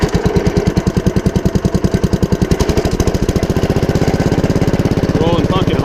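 A Simplicity lawn mower engine runs with a steady, rapid putter, loud and close, its rhythm quickening slightly as it settles into an idle, with someone talking over it.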